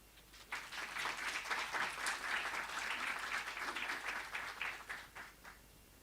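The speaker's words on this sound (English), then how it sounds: "let's give him again a round of applause" Audience at an annual general meeting of Eskom applauds a report, a sustained, even spread of many hands clapping that swells in quickly, holds steady, then tapers off.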